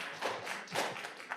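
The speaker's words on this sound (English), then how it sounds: "If the audience can please refrain from clapping as we try to communicate" An audience claps briefly at a city council meeting: a short burst of scattered claps heard from a distance in a hall.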